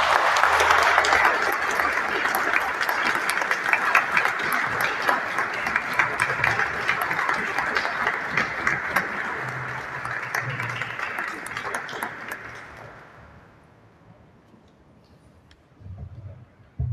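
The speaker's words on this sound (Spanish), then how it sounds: "Un aplauso para Juan Carlos Flores." Audience applause rings out at an art critics' award ceremony for an honoree. Steady, dense clapping carries for about twelve seconds and then fades away to near silence, with a brief low rumble at the very end.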